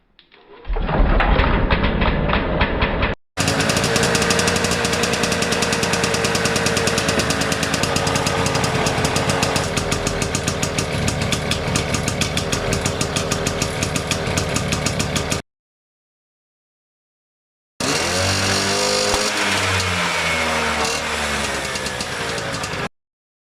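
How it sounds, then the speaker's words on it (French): A moped engine, just overhauled, sputters briefly, then catches and runs loud and steady with a fast rough beat for about twelve seconds, cuts to silence, then runs again with revving toward the end. "maintenant, on a juste à vérifier si le moteur démarre"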